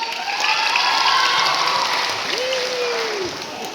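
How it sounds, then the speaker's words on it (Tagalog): A birthday feeding program crowd applauds and cheers for the sponsors, a sustained wash of clapping with voices shouting and a rising-falling whoop over it, fairly loud and close. "pasalpungan na natin ng masigapang salamat at palakpak!"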